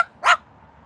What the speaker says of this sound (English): I'm in the mood to bark.